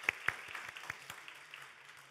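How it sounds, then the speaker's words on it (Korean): A church congregation gives a round of applause of thanks during a service: faint, sparse claps at a distance that thin out and fade away. "우리를 인도해 주신 하나님께 감사의 박수를 올려드립니다"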